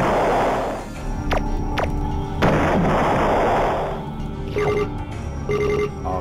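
Several sharp laser-like zaps and ringing electronic tones from shooting green objects in the video game Star Control 2, spaced irregularly over a steady game hum.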